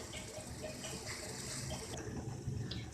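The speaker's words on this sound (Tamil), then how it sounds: "பாருங்க நல்லா கொதிச்சிருச்சு" Water with dissolved palm jaggery for karupatti coffee boils in a pot on the stove, giving a dense, steady bubbling and rushing noise, close and continuous, with no talk over it.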